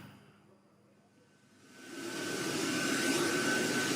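An aircraft engine at an airfield during a presidential inauguration event rises from a quiet hum into a loud, steady roar of jet noise that builds and holds.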